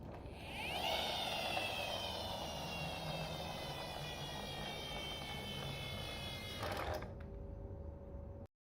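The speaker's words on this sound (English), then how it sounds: "Helicopter." Loud, sustained mechanical roar with a whining engine tone and steady rumble, cutting off abruptly near the end; sounds like a toy RC helicopter passing close.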